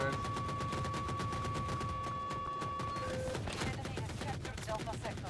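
Rapid bursts of automatic video game gunfire crackle in quick succession, fairly close, with a few sharper single shots near the end.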